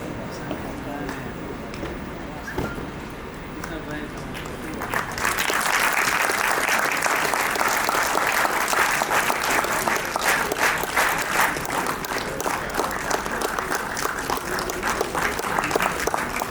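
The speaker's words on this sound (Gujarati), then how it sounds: "ખૂબ જોરદાર તાળીઓ વચ્ચે શ્રી કિશોરભાઈ ખૂંટ." Audience at a skills honour ceremony at an ITI in Jamnagar breaking into loud, sustained applause after a few quieter seconds with a voice over a PA, the clapping dense and steady to the end.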